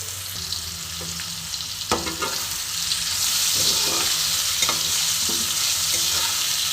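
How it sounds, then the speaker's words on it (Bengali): Potato pieces fry in oil in a pan with salt and turmeric, a steady close sizzle with occasional stirring scrapes that grows louder partway through. "একটু লাল লাল করে ভেজে নেব।"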